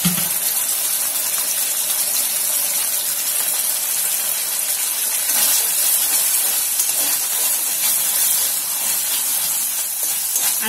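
Tomato puree hits hot oil in a pan for Manchurian, giving a loud, continuous hissing sizzle that holds steady throughout without pause.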